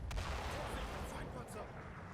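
Tank gun firing a single long-range shot in the Combat Mission wargame, a sharp boom near the start followed by a rumbling low tail that fades over a couple of seconds.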